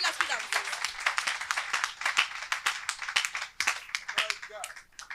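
A church congregation clapping and cheering in bursts, sharp hand claps scattered fairly close, with a voice speaking over the applause.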